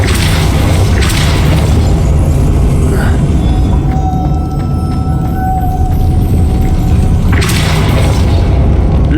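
Depulso spell blast cast in the video game Hogwarts Legacy: a loud, sustained booming rumble with heavy thuds, strongest at the start and swelling again near the end.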